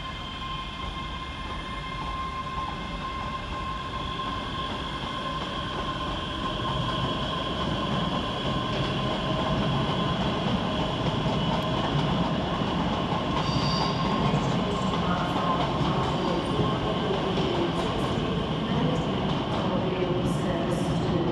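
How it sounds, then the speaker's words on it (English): A pair of Scotrail class 385 electric trains pulling out of Glasgow Queen Street station on the far platform, a sustained rumbling roar with a steady motor whine and faint squealing wheels that builds gradually and fills the whole stretch. "Departing on the far side is 385115 and 385116, with the 1615 Scotrail Express service to Edinburgh Waverley via Falkirk"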